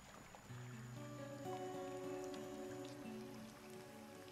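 Water pouring in the video game Scanner Sombre: a steady, soft rush of flowing water that swells slightly midway, layered under low sustained ambient tones, with no voices.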